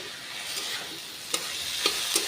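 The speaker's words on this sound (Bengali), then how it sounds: "এবার লবণ আর হলুদ দিয়ে একটু নেড়ে চেড়ে নিলাম" Moong and masoor dal frying in a pan with salt and turmeric, a soft steady sizzle under a few sharp scraping stirs of a spoon against the pan; no speech.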